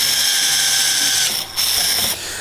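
A drill bores holes through timber framing members beside a mortise for a garden shed's roof frame, giving a steady, close whirring grind that dips briefly in the middle and again near the end.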